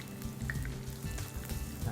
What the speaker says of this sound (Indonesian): Nah ini kita goreng sampai dia berwarna ya,